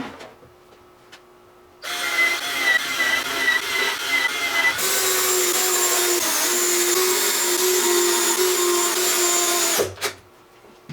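A power drill whines steadily for about eight seconds, first lower and then pitching up into a loud continuous whir as it drives screws to fasten the fence on a table-saw crosscut sled, then cuts off abruptly.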